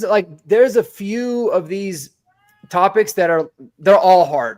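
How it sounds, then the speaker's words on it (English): A cat meows in the background, heard only faintly beneath steady, continuous speech from people talking over it. "that's my cat meowing in the background."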